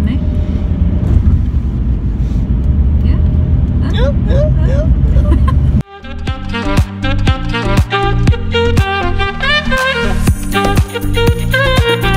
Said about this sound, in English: we're just gonna try and turn the bus on